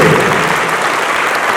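Loud, dense audience applause fills the whole stretch at a steady level, with no voices standing out.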